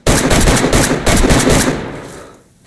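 Burst of rapid gunfire in the survival game DayZ, loud and close, firing in quick clusters before tailing off into a fading echo over the last half second.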